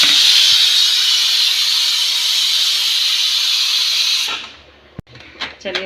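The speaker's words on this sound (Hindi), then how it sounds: "चलिए प्रेशर हमारा निकल चुका है।" A pressure cooker holding cooked peas vents a loud, sustained steam hiss for about four seconds, then cuts off abruptly, followed by a few soft clicks and handling sounds.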